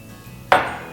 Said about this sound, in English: And then you take 2 cups of warm water,